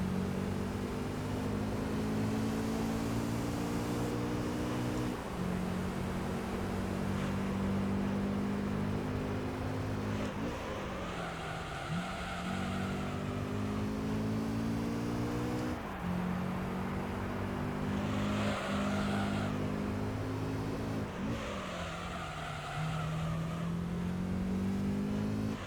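A Honda NSX races in Gran Turismo 3, its engine droning loud and steady as revs climb through each gear, with several sharp drops at the shifts before the pitch rises again, continuous and close throughout.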